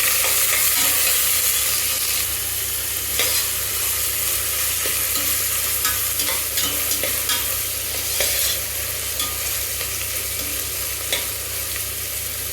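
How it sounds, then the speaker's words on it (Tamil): Onions and curry leaves sauté in hot oil for a chicken kurma, a loud, steady sizzle and crackle with occasional scraping stirs of a spoon against the pan throughout. "கொஞ்சோண்டு கருவேப்பிலை, இதோட ஆனியன் சேர்த்து நல்லா வதக்கணும்."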